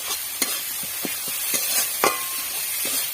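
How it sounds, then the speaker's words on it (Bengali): Spices and cumin powder sautéing in a pan for a Bengali fig and shrimp dish produce a soft background sizzle, broken by repeated sharp scrapes and clicks of a spatula stirring, with no talking. "আর দিয়ে দেবো জিরে গুঁড়ো দিয়ে ভালো করে কষে নেবো"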